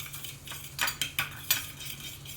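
A fork scraping and clinking against a bowl while mixing a butter and ghee mixture, a handful of sharp, bright taps in an irregular rhythm, close and fairly quiet.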